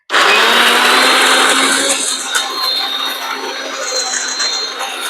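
Electric mixer grinder whirs loudly and steadily, blending spice paste for beef vindaloo, a close continuous grinding drone with no voices.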